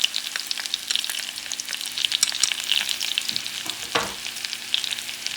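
Minced garlic sizzles and crackles in a hot pan alongside pompano fish, steady frying with a brief stirring scrape partway through, close and fairly loud.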